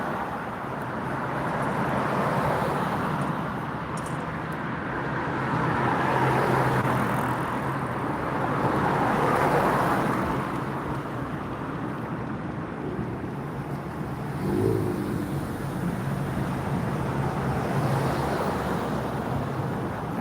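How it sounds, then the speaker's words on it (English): Rush hour road traffic, a steady broad wash of passing cars heard from a distance, with wind buffeting the microphone and gentle swells as vehicles go by. "so people are going home. That's why all the traffic."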